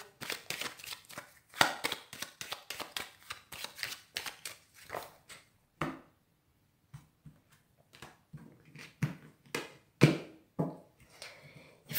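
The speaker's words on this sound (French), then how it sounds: "je vais faire une coupe avec le tarot de Marseille pour vous, les Gémeaux" Tarot de Marseille cards being shuffled and cut, a rapid run of crisp riffling flicks and slaps in the first half, then a short pause followed by scattered snaps and taps as the deck is cut, close and clear with no voices.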